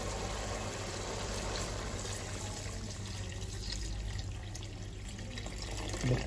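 Water is poured steadily into a pan of mutton curry in a home kitchen, a continuous close splashing stream over a low background hum, with no talking.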